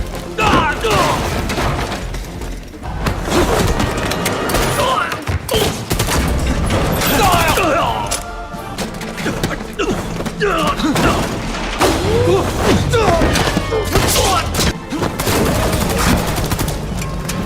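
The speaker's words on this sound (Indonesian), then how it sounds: "Xiaomei kembali menembak, namun Jintai lagi-lagi berhasil selamat" Repeated gunfire and booms from a sniper action film shootout, loud and dense throughout, mixed with mechanical clanks, thuds and film score, with occasional voices underneath.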